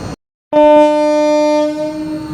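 A loud, sustained train horn blasts after a brief silence, holding steady harmonic tones for nearly two seconds before easing slightly as the train departs Durganagar platform.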